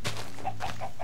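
Minecraft chicken sound effect: a run of four short, evenly spaced clucks over a steady game background.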